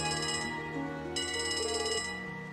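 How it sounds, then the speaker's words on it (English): Telephone ringing in the video game Trails to Azure, a repeating electronic bell-like ring in two bursts over steady game music, loud and close. "Hey, we got a phone call."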